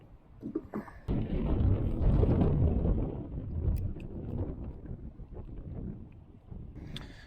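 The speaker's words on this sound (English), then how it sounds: "Goodness gracious, that wind." Wind gusts across a lake while fishing for bluegill, a loud roaring rumble buffeting the microphone that swells and eases over several seconds, with faint splashes and knocks.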